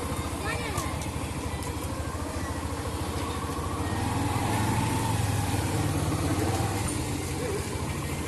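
A motorbike idles outside a dance program venue with a steady, close, low engine drone throughout while someone talks over it.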